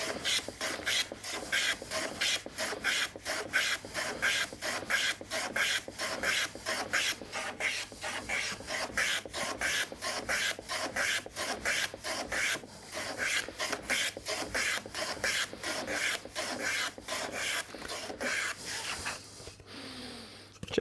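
A hand plane is pushed along a wooden workpiece on a shooting board, giving rapid regular rasping strokes that repeat steadily at close range and stop near the end.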